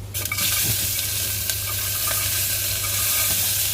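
Corn is stirred and fried in a hot pan, giving a loud, close, constant sizzle and hiss with occasional scraping stir strokes and no voices.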